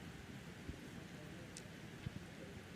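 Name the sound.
rain falling at outdoor archery competition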